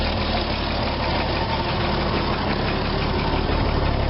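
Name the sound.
1979 Ford F100 truck engine idling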